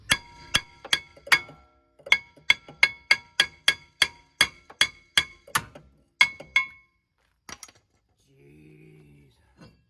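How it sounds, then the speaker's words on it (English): A hammer strikes a seized rear wheel hub on a 2012 Chevy Equinox in a rapid series of sharp, ringing metallic blows, about fifteen in steady rhythm, then a few spaced hits and a brief low murmur. "I've been hammering on this thing for a while."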